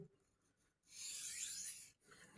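Old Hickory hunting knife sharpened to remove the burr, a single brief scraping stroke of blade on stone, close and soft, with quiet room before and after.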